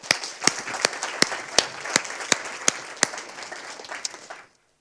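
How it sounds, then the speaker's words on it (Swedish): At a popular science award ceremony, a close, steady round of applause is punctuated by regular sharp, loud claps at an even beat. It stops abruptly at the end. "En varm applåd!"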